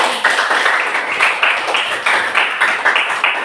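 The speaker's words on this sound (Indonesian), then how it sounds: "berikan tepuk tangan untuk kita." Students in a classroom clap together in a lively, steady burst of applause that holds at a fairly close, even level for a few seconds, with no talking over it.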